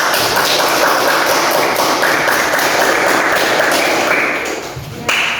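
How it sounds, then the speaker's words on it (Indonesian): A classroom of students applauds a classmate, producing a loud, dense patter of clapping that holds steady for several seconds before thinning out at the end. "Beri aplaus kepada Dara."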